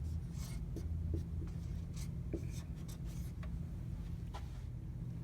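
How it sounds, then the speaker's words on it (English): Pen or marker writing out the answer to an absolute value equation, quiet scratchy strokes in short bursts over a low steady background hum. "you'd write your answer like this."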